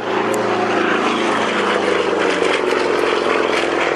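A Red Bull propeller aerobatic plane flies a display at the 2010 Tauranga Airshow, its engine and propeller producing a loud, continuous, buzzing drone close by.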